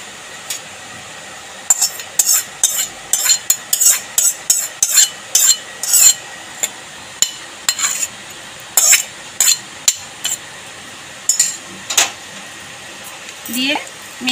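Hot oil with fried black cumin being poured and mixed into a mash of gathi kochu taro root with garlic and chilli, heard as a long run of quick utensil clinks and scraping strokes against a bowl, fairly close, with no talking.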